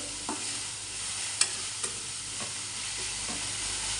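Onion, chili, ginger-garlic paste and spices frying in a pan under a steady loud sizzle, with a few sharp spoon scrapes and knocks at irregular intervals.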